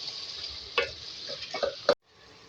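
Potatoes being stirred into beef kofta masala in a pan make quiet, scattered clicks and soft scrapes of a spoon against the pan, with a faint frying hiss underneath.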